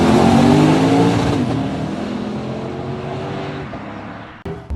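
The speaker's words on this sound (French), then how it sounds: "la sonorité de l'échappement a été retravaillée pour créer un bruit sourd" A Lexus RC F's engine and reworked exhaust roar loudly up through the revs, a deep rising drone that gradually fades as the car pulls away, ending in an abrupt burst near the end.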